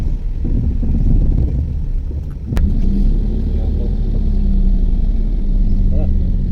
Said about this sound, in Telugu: నేను క్లచ్ రిలీజ్ చేస్తున్నా, ఆగండి